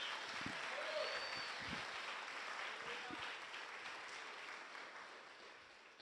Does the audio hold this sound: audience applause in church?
yes